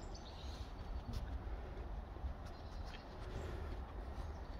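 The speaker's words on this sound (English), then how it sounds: "Look at the train." A low, continuous rumble of a Class 37 train rolling past nearby, steady and fairly quiet, with no voices.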